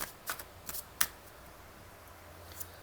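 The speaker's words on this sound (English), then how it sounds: "So let's pull more cards." Tarot cards shuffled and drawn in short crisp riffling bursts, several quick flicks spaced across the moment, close and fairly clear with no talking.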